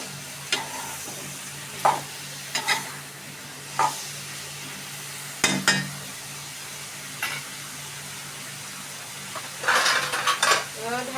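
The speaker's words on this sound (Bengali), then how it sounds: "ভালোভাবে কষিয়ে নিতে হবে।" Eggplant with bean seeds stir-fried in a pan: a spatula scrapes and clanks against the pan at irregular intervals over a steady soft sizzle, close up, with no talking.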